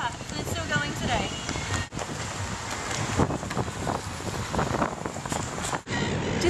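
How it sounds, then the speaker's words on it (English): Heavy rain and gusty wind outdoors by the Yarra River in Melbourne, a constant rushing wash of weather noise with microphone buffeting under a person talking throughout. "it's been bucketing down and windy and messy and all atrocious"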